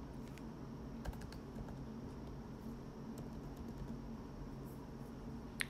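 Keys clatter on a computer keyboard as passport and certificate details are typed into a form, a steady run of light clicks with a few sharper taps, close and fairly quiet over faint room hiss.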